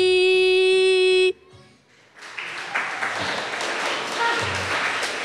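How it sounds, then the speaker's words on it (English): Audience clapping at a live event, starting after a sustained tonal musical note cuts off, then swelling from scattered claps into fuller applause that grows louder toward the end. "Everybody stop clapping."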